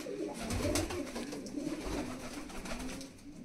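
A lalsira pigeon coos softly in low, repeated throaty notes against a faint background.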